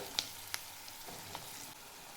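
Onion frying in oil for a Marathi chilachi bhaji, a soft steady sizzle with a few sharp clicks of a spoon against the pan, no voices.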